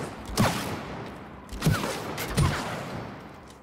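Gunfire in the co-op game It Takes Two, aimed at a tree: three separate sharp shot bursts spaced about a second apart, each trailing off, with no talking over them.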